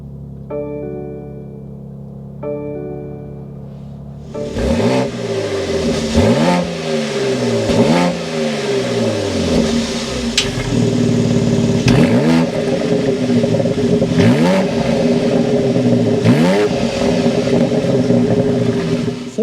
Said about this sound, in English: start it up so you can hear that exhaust note